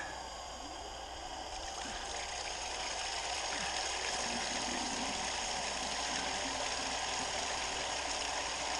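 A water pump runs steadily for gold sluicing, feeding a constant broadband rush of flowing water with a low motor hum beneath, loud and close and unbroken throughout, with no talking.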